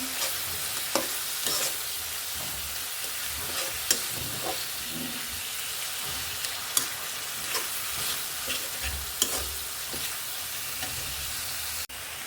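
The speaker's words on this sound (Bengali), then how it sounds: "ভাজা ভাজা করে মশলাটা একটু কষিয়ে নেব" Spice paste for a hilsa fish curry fries and sizzles steadily in a pan, with a spatula scraping and stirring at irregular intervals, close and continuous with no voices.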